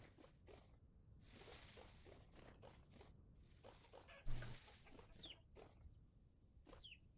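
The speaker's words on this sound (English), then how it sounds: "Oh, it's chickens, I guess." Chickens clucking in the Vintage Story survival game, a series of short soft clucks and chirps at moderate distance over quiet ambient noise, with one brief thump partway through.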